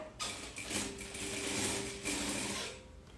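A sewing machine runs a short seam with a small margin, its needle whirring in one continuous burst with a brief dip partway through, close and alone.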